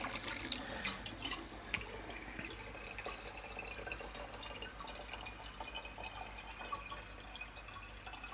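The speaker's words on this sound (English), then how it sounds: "I'm going to pour the water into the side of the funnel, so it's going to try to flow past the hole" Water poured into the side of a funnel so it swirls around the hole into a whirlpool before draining into a glass; a steady, close trickling and splashing continues evenly throughout with no talk.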